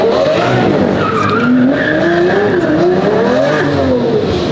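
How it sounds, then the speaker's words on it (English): A Lamborghini Murcielago skids through a quick 180-degree turn, its tires squealing loudly and close up in wavering tones over the rough growl of its engine for several seconds. "That's how you turn around, a quick 180."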